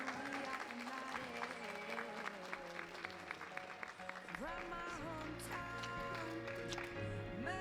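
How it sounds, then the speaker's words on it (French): Audience applause at the Miss Charmante Nouvelle Aquitaine 2025 pageant evening, steady and sustained, with music playing underneath and tones shifting partway through. "Je pense qu'on peut leur faire un tonnerre d'applaudissements ce soir."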